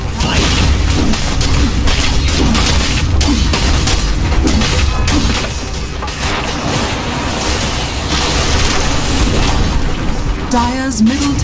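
A Dota 2 tower collapses in a heavy explosion, dense booming crashes and clatter of battle continuing throughout, loud and close, with an announcer voice speaking over the din.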